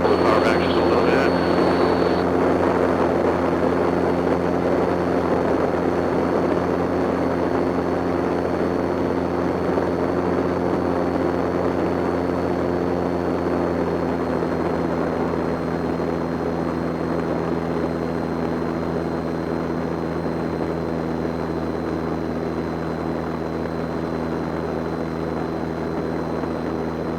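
Cessna Skylane in flight just after takeoff, its propeller engine droning steadily and loudly from inside the cabin for almost half a minute, with a pilot speaking briefly over it.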